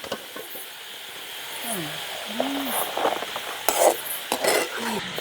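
Potatoes fry in hot oil in a pan during an outdoor village cooking session and are lifted out with a utensil. A steady sizzling hiss runs under scattered light scrapes and clinks, with a person speaking intermittently.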